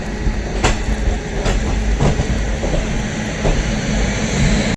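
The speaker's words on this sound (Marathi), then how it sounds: "फायनली ट्रेन रत्नागिरीत आलेली आहे" A train pulls into Ratnagiri station with a steady, loud rumble and broadband roar, overlaid by scattered rattles and clatter, and no voices.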